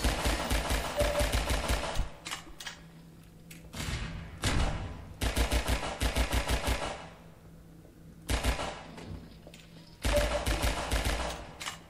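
Bursts of gunfire from a first-person shooter, Half-Life 2 Episode 1: several rapid volleys of sharp, clattering shots, loud and close, separated by short pauses.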